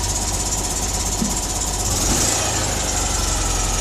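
A Citroën 2CV's small air-cooled twin engine, just brought back to life, runs at a steady idle. It makes a loud, even putter with a slight rise in revs partway through, and no voices are heard.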